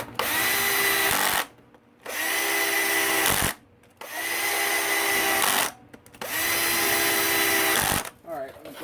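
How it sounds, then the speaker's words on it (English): A cordless drill with its clutch drag set seats clutch spring bolts on a Kawasaki KX85 dirt bike, running in three or four steady whirring bursts of about a second and a half each, separated by short pauses. "I'm going to use my cordless drill here with the drag set just to seat them down for me."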